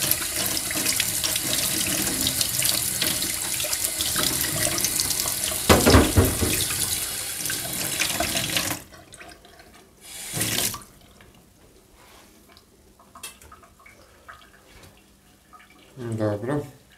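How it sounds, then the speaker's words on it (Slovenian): Tap water runs into a kitchen sink while something is rinsed, a loud continuous gush for about nine seconds, then the flow stops and only brief water bursts and faint clatter follow, with voices talking nearby. "Ovo malo splaknem."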